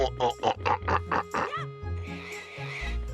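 Pig oinking in The Legend of Zelda: Wind Waker, a run of short squealing grunts in quick succession, loud and close, followed by a softer sustained squeal over a steady game soundtrack.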